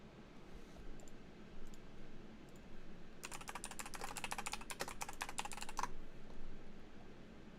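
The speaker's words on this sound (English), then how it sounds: "whenever I hear you randomly start typing, my heart just, like, drops" Rapid clicking keystrokes on a computer keyboard burst out for a few seconds, a dense run of taps against a quiet room, with a few isolated clicks before.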